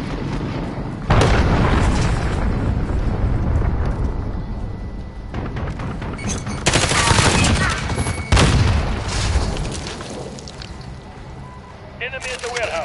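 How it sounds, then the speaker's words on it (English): Cruise missile explosions and gunfire in Call of Duty Modern Warfare (2019) boom and rumble in heavy, loud waves with a few sharp blasts, while voices talk over the din. "Enemy cruise missile incoming."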